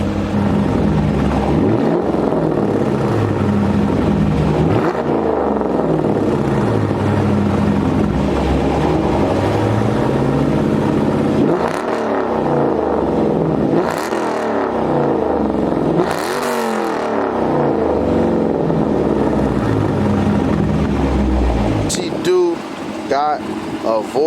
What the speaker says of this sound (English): So I'm gonna set this camera down and give y'all a couple revs